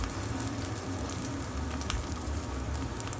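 A birria taco frying in a pan, a steady close crackling sizzle that holds even throughout.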